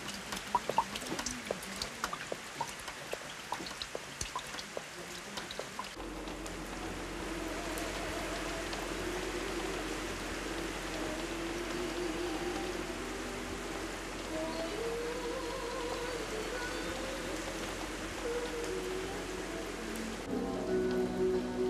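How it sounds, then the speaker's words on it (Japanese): Steady rain falling on a mountain village, a dense even hiss of drops on surfaces that starts softer and swells after a few seconds, then continues unbroken with faint scattered chirps in the background. "青い秋空がわずか5分ほどで灰色の雨空になってしまい"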